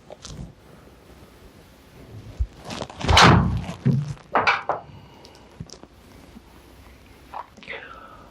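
A golf club strikes the ball in a single sharp, close impact with a brief rush of air around it, while quieter rustles and movement sounds come before and after.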